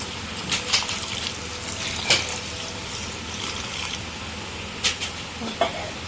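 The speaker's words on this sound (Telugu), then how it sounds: "ఇప్పుడు మనం ఇందులో వాటర్ యాడ్ చేసుకోవాలి. హాట్ వాటర్ యాడ్ చేసుకోవాలండి" Hot water splashes into a simmering pan of chicken gravy in a few short bursts, with faint clinks and bubbling in between.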